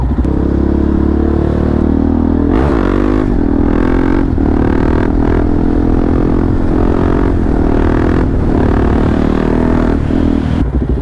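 A motorcycle engine roars loud and close the whole time, revving hard as the rider accelerates to lift the front wheel into a wheelie. There are brief throttle surges and clattering dips, and no voices.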